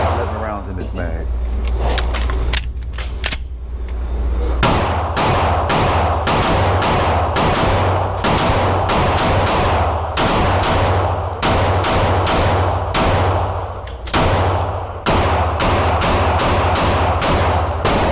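Canik pistol firing TTI Combat ammunition during a recoil test, a loaded magazine of eleven rounds fired in a rapid string of sharp, loud, close shots at a steady rhythm, with speech in the pauses.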